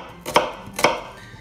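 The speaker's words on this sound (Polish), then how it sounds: "teraz szybciutko kroimy naszą cebulkę" An onion is chopped with two crisp knife strikes against a board, spaced about half a second apart, close and isolated.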